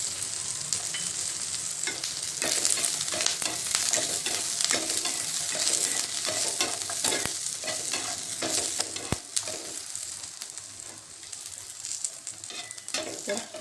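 Green chilies, ginger and garlic fry in hot oil with a steady, bright sizzle, broken by occasional stirring scrapes and a sharp utensil tap, with no voices.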